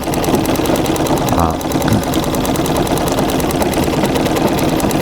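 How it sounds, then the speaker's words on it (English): A foot-powered treadle sewing machine quilts a full-sized quilt with white cotton thread, giving a loud, steady, close mechanical chatter that runs continuously throughout. "as I'm treadling here, I always have to keep that wheel turning in the same direction"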